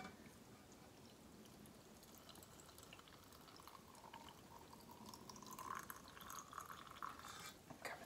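Pickling brine is poured into a glass jar of beets with ginger and garlic, a faint liquid trickle whose filling tone rises toward the end, heard alone in a quiet kitchen.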